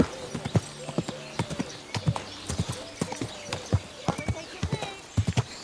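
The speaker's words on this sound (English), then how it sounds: "Easy, good horse." Horse hooves clip-clop in a steady, close trot in the video game Kingdom Come Deliverance 2, with occasional snorts, while someone speaks calmly over the hoofbeats.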